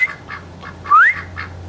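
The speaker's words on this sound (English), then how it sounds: "You got to be a good duck and you have to be quiet." A duck gives a series of short, nasal honking calls, about five evenly spaced, over a steady low hum, close and fairly loud, with one stronger call near the middle.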